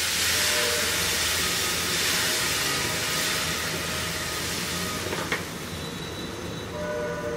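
Chit roti frying in hot oil in a pan, a loud, dense, continuous sizzling hiss that holds steady close by, with a brief click near the end and no voices.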